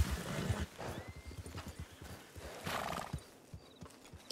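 A horse in the game RedM lets out a clear neigh amid a run of clip-clopping hooves and snorts, fairly close and alone, fading toward the end.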